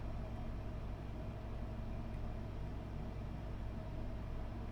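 A low, steady rumbling drone continues without a break, dense and moderately loud like a distant stampede, a zombified deer stampede in the video game Organ Trail: Complete Edition.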